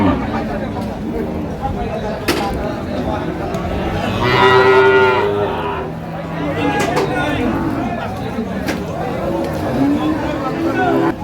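A cow gives a loud, drawn-out moo amid the chatter and bustle of a cattle market, where people talk nearby throughout.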